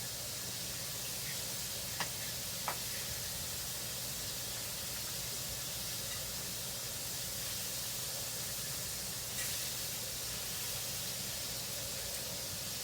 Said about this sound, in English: I'll give it a good 3 minutes frying up.